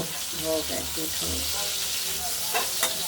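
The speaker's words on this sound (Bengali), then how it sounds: "এখন ভাজা এটাকে ভাজা হচ্ছে একটু লাল লাল করে ভাজা করে নেব" Katla fish pieces fry in oil with a loud, continuous sizzle and crackle, close up, with brief scraping stirs and a few clinks partway through.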